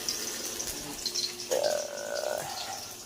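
Tap water runs steadily into a sink while dishes are washed after a home breakfast, a continuous splashing wash that swells louder midway with a brief tonal gurgle.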